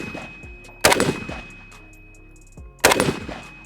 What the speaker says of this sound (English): We're shooting Global Ordnance M193.